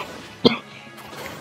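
A single short cough bursts out over quiet game audio, one brief sharp burst with nothing else prominent around it.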